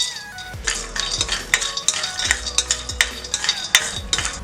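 Sprouted, sun-dried grains dry-roast in an iron pan, stirred with a steady rhythm of scraping and rattling, and repeated sharp metallic clinks of a spoon against the pan, fairly close and loud.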